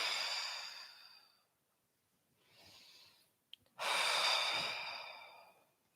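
Breathing during a morning yoga class: a long exhale fading out, a softer breath after a pause, then a small click and a strong, close inhale, with no talking.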